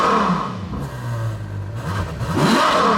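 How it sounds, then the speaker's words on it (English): A Ferrari FF shooting brake's V12 engine revs close by, its loud, smooth note rising and falling in pitch over a few seconds and then climbing again at the end, with no voices. "the V12, which... sounds amazing"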